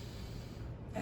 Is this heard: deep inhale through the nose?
yes